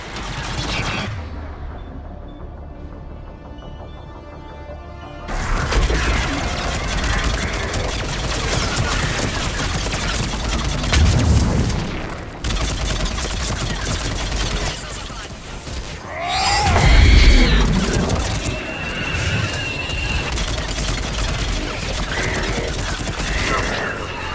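Missile strikes and gunfire in the Mass Effect video game, heavy booming blasts and rattling bursts that come and go over about twenty-four seconds, with a loud impact near the end and voices talking in between.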